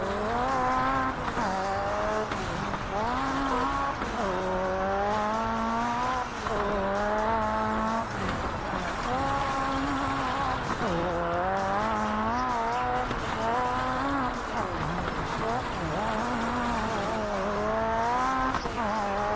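Race car engines in the Xbox game RalliSport Challenge 2 whine loudly and continuously, pitch climbing and dropping in repeated waves as the cars shift gears.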